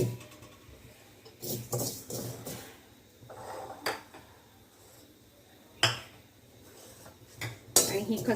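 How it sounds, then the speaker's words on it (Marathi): Clattering metal kitchen sounds from a kadhai on a gas stove as poppy seeds are dry-roasted, with several sharp scrapes and clinks spaced irregularly, fairly close and moderately loud, over a quiet background. "खसखस घालते, खसखसला थोडं भाजून घेते"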